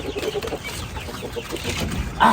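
Chickens clucking around an egg-laying coop on a small farm, a steady murmur of hen calls close by with a louder, sharper cluck near the end.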